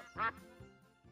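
A single loud duck quack, short and nasal, stands out over soft background music.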